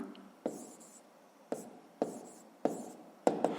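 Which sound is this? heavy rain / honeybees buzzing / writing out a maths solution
writing out a maths solution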